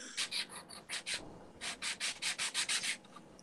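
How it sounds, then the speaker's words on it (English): Scratching from the far side during a Halloween-themed RC hobby talk, a harsh nails-on-chalkboard rasp in about a dozen rhythmic strokes, a few short ones then a steady run of longer scrapes, close and fairly loud. "And we have Ethan scratching away at the other side"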